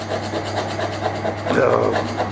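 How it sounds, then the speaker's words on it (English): Steel scraper rasping old grout or adhesive off a slab of reclaimed marble during a kitchen renovation, a steady close scratching that grows louder and rougher near the end, over a low constant hum. "I'm just using a scraper to get that off"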